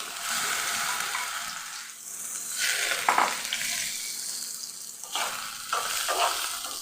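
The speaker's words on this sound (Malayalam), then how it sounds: "പാനിലേക്ക് 2 ടേബിൾ സ്പൂണ് ഗീ ചേർത്ത് കൊടുത്തിട്ടുണ്ട്." Chopped nendran bananas fry in two tablespoons of ghee, giving a close, continuous sizzle with a few louder bursts where the pieces are stirred around the pan.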